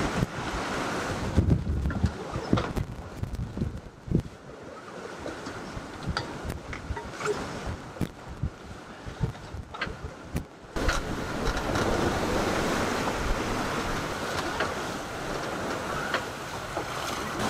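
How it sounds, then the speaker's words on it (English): Wind of about 20 to 22 knots and a building sea swell wash around a sailboat under way, a continuous roaring rush with sloshing water and occasional knocks and bumps, no voices. "We've got wind strength up to about 20, 22 knots and uh, the swell's picked up now"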